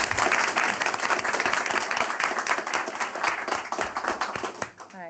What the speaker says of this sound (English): So a big round of applause for Abigail.